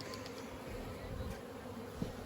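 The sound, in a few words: honeybee buzzing near the hive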